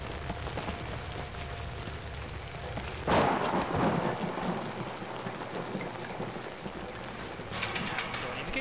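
A thunderstorm in the horror video game Outlast brings a sharp crack of thunder that rolls into a rumble over a constant hiss of heavy rain, with a voice speaking in the background.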